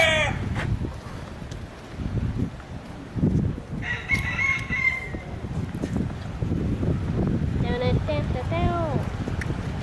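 Rooster crowing outdoors in Key West, a loud drawn-out cock-a-doodle-doo near the end, with an earlier shorter crow, amid people chatting and background street noise.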